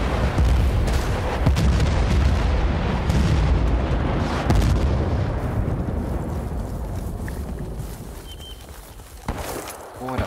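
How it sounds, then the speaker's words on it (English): Mortar explosions go off as a loud, sustained rumbling roar of blasts and booms, heavy at first and slowly fading over about ten seconds, with faint voices and distant crackles near the end. "Fucking mortars."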